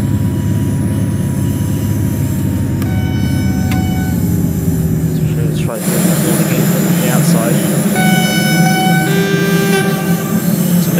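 Horn of a DB BR612 diesel railcar in Train Sim World 2, sounding on a run from Chemnitz to Dresden; a loud sustained tone blares in the second half over engine rumble while someone talks.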